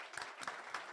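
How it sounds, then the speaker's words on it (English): Audience applause rises for the Amref team at a health security report launch in Kenya, a dense round of clapping with a few sharper claps standing out. "let's give them a loud"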